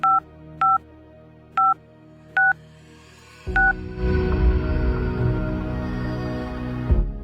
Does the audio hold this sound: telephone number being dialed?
yes